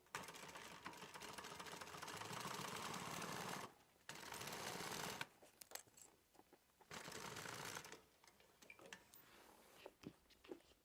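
A sewing machine stitches a messenger bag in several loud, rapid bursts separated by pauses, then a looser run of short stitches and light handling clicks.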